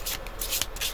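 Grimaud tarot cards handled and shuffled up close, with quick papery riffles and flicks arriving in several short bursts.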